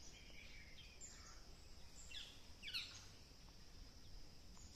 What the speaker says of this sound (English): They are chirping right now. I can hear the sound clearly.